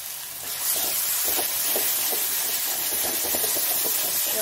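Ginger-garlic spice paste for raw jackfruit curry fries in hot oil in a pan, giving a steady, close sizzling hiss with faint crackles and no voices.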